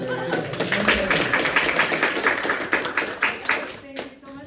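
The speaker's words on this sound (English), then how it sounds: "And a big round of applause for Riley for bringing it together." Conference audience clapping in a round of applause, dense rapid claps filling the room at moderate loudness, with a voice speaking over it near the end.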